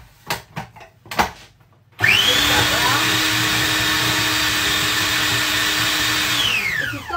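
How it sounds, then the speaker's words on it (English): After a few soft knocks, a food processor starts up and runs loudly and steadily, mixing raspberry bun dough with a rising whir that holds near and constant, then slows toward the end. "a food processor, use it"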